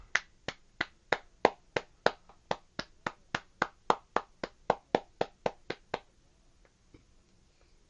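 Sharp, evenly spaced hand claps ring out about twenty times in a steady rhythm, close and crisp, then stop, leaving near silence.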